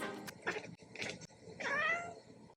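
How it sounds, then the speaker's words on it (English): A cat making short chattering, meow-like calls, three or four brief bursts in quick succession, close and fairly loud with no other sounds. "If you've ever seen a cat chattering away at a bird outside a window"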